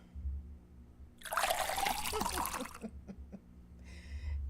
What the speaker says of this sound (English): The only thing I'm going to be pouring is some water.